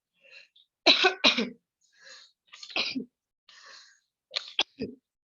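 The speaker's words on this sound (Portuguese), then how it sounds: "desculpa aqui, acabei espirrando" A man lecturing indoors sneezes, a loud close sneeze followed by smaller throat sounds and a few quiet breaths, with nothing else around it.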